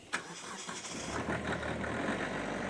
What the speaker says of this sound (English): I'm going to go ahead, fire this tractor up.